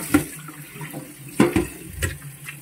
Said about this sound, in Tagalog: Hugasan ko muna guys.